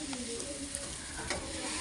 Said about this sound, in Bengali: এবার আমি চাটা ঢেলে নেব।